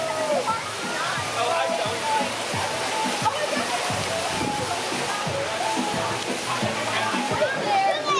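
Steady, loud rushing of a waterfall on a lazy river ride at Harrah's resort near San Diego, continuous splashing and pouring water close up, with voices faintly mixed in the background.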